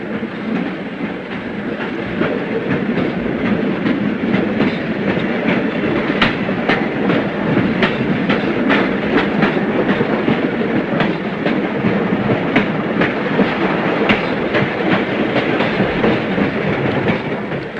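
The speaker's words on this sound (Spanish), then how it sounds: "un tren en accidentada marcha, atravesando túneles y ciñéndose a infinitas curvas" A train runs along a mountain railway through tunnels and curves, a loud continuous rumble with a steady rhythmic clickety-clack of wheels over rail joints, close and unbroken throughout.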